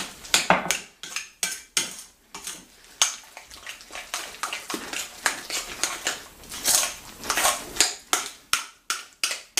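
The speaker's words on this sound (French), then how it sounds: "On va mélanger tout ça." Egg yolk filling for oeufs mimosa (deviled eggs) is mixed in a bowl, giving a steady run of sharp utensil clicks and scrapes against the dish, close and fairly loud, with no voices.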